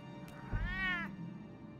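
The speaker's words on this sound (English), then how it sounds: "Cat, I ain't got time for you." A cat in Batman: The Telltale Series video game gives one clear, drawn-out meow lasting about half a second, close and fairly loud over a quiet ambient background.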